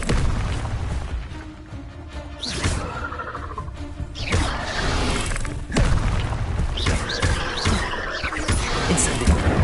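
The Incendio fire spell cast in the video game Hogwarts Legacy, a series of heavy whooshing, booming bursts of flame repeating over a steady rumble.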